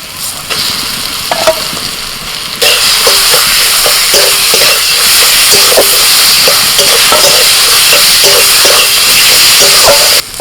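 Ground drumstick (moringa) pulp paste is fried and stirred in a pan: a steady, loud sizzle with repeated scraping strokes of the spoon, growing more intense partway through.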